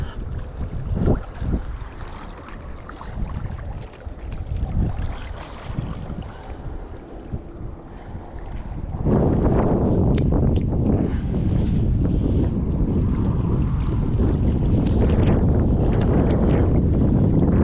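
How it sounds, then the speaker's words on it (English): Steady wind roars across the microphone outdoors by open water during bass fishing, growing louder and more constant partway through, with gusty rumbling throughout. "It is pretty windy this morning"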